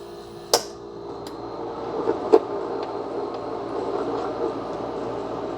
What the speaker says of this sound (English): There's the ice. They're going to drop down.